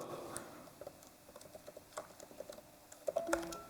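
Fingers type a password on a MacBook keyboard, a quick series of soft, light key taps close by, irregular in rhythm, with a few sharper clicks near the end and no talking.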